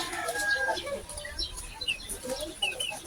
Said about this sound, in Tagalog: may tandang na panabong